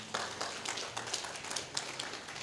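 Applause from a convention audience in a hall, at the Uganda Diaspora Convention: light, scattered clapping at moderate distance, fairly soft and uneven.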